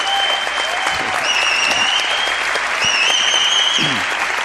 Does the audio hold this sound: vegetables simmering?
no